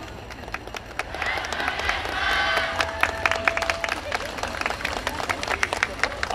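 An audience clapping along during a YOSAKOI Soran festival parade, scattered handclaps and crowd noise outdoors with a murmur of voices, a short tonal cue, and ongoing rhythmic claps.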